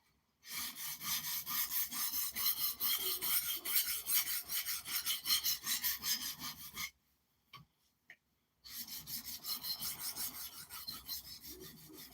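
Steady abrasive rasping of a knife bevel being refined on a sharpening stone, continuous strokes for several seconds, a brief pause with a couple of faint taps, then the grinding strokes resume close and loud.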